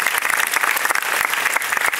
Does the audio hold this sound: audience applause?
yes